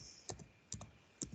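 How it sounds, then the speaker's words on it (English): Keys tapped on a computer keyboard while entering an email address, three small clusters of quiet clicks at even intervals, close and faint, with no voices. "So all I'm going to do is type in here and type in my email address"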